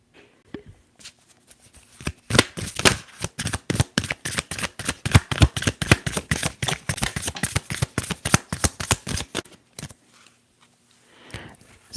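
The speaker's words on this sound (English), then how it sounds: "let's get these shuffles out the way" Tarot cards are shuffled up close in a rapid, dense run of crisp riffling clicks lasting about seven seconds, bracketed by softer rustling handling of the deck before and after.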